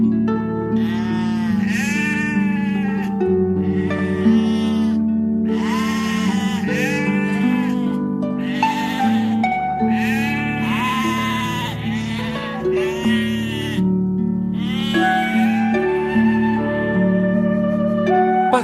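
Sheep bleat repeatedly, loud and near, in long wavering cries over a steady bed of sound, with no talking.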